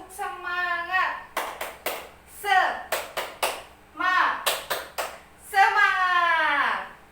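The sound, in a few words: class doing a rhythmic spirit clap chant (tepuk semangat)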